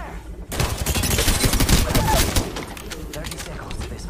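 Heavy automatic gunfire in a multiplayer shooter match, a dense, loud, continuous barrage of rapid shots and impacts that runs nearly unbroken after a quiet opening half-second.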